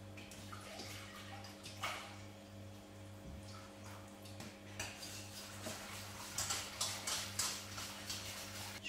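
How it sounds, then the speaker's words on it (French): Milk poured into a béchamel sauce: a faint, watery trickle with light clinks and taps of utensil against pan, quiet and close, growing busier toward the end. "Je vais rajouter le reste du lait."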